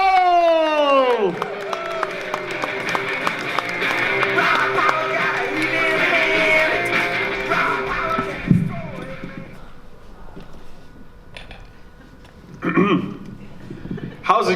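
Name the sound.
audience applause and cheering at stand-up show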